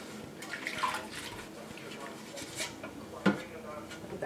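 A rag sloshing and wiping soap residue off a pot in a basin of water, with soft splashes, drips and a light clink of metal, faint and close.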